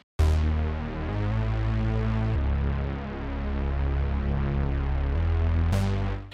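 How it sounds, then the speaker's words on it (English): A mono analog unison synth patch plays sustained low notes, thick, bright and buzzy, shifting pitch a few times with no voice over it. "the next sound we got is called Unison Mono Analog"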